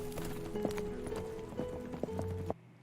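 A horse's hooves clip-clop in an irregular walking rhythm in a TV drama scene, heard fairly faint under steady background sound and music-like tones, with no clear talk.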